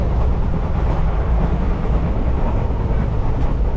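A train at New Cooch Behar station makes a steady, heavy low rumble with a dull mechanical drone and constant noise, loud and close, with no voices.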